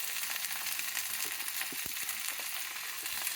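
Ivy gourd (dondakaya) fries in a pan, giving a steady, fairly soft sizzle with a few faint stirring scrapes, with no talk.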